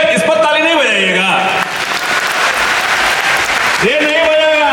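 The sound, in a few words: audience applause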